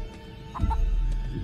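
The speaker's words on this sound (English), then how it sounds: "That's definitely a chicken." A chicken in a horror video game gives a few quick clucks near the middle, short bursts over a low background rumble, with no talking during the sounds.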